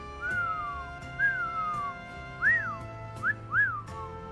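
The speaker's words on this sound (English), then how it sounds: "I feel like whistling, like, picks up louder on the microphone" A person whistles into a microphone, close and clear, with a few separate phrases: two long falling notes followed by shorter rising and falling chirps, in an otherwise quiet room.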